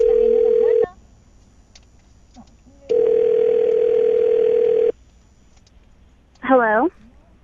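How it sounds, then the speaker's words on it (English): Landline phone line: a steady dial tone, then a short burst of touch-tone dialing, a second long tone, and finally a brief warbling ring-like tone, each clear and close with quiet gaps between. "I'm going to dial the phone number right now"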